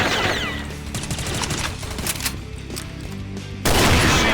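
Gunfire in the shooter game Combat Arms Reloaded, rapid close bursts of shots crackling in quick succession, with a louder burst of fire at the end.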